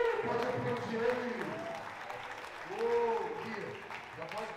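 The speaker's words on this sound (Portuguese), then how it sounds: "Pode aplaudir ele." Audience in a church service applauding in two swelling waves of clapping, with a voice speaking over the noise.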